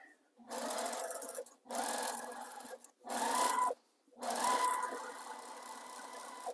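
A sewing machine runs a straight line of stitching on a raw edge appliqué baby quilt, in four steady whirring bursts separated by short stops, close and fairly loud.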